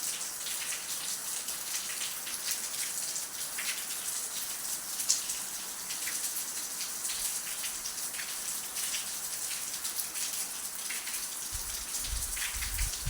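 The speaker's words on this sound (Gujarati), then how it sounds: "જો વરસાદ ચાલુ થયો હે ધીમો ધીમો" Light rain falls gently at a village home around 5:30 in the evening, a soft, even hiss that carries on alone without a break.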